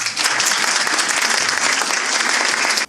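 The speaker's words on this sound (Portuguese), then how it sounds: "Ele também vai gostar de ouvir as palmas de vocês." Audience at a business seminar claps as a speaker is introduced, a bright, dense burst of applause that runs steadily and then cuts off abruptly.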